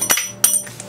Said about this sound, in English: I didn't need that wrench anyway.